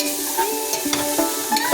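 Aval upma, made from flattened rice, is stirred and mixed in a pan, with scraping strokes over a soft frying hiss and irregular clinks from the utensil.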